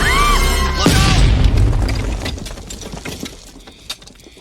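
A firecracker explodes in the movie Toy Story, a sudden loud boom that cuts off other sounds and then fades into a long rumbling decay with scattered debris crackles.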